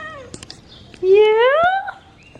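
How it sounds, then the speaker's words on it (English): A young kitten gives one loud, drawn-out meow that rises and then falls in pitch, close to the listener, after a short faint sound and before quiet. "That's a big meow out of a little baby."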